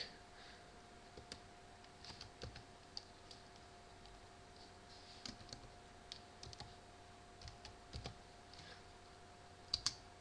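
Someone types on a computer keyboard, the light key clicks coming in short irregular bursts with pauses between them, close and quiet in a hushed room with a faint steady hum.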